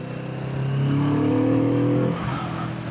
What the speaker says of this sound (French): quand tu commences à accélérer un petit peu, là, t'as l'échappement qui se réveille